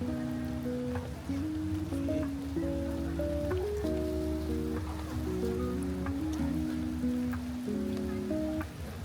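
Steady rain falling on a surface, a continuous hiss running beneath a melodic background tune, with no voices.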